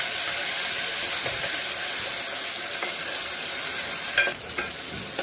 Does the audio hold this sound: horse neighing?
no